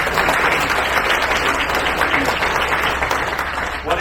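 Audience applause after praise of a candidate at a Hamilton West political meet-the-candidates event, steady dense clapping from a crowd throughout, loud and close, with no talk over it.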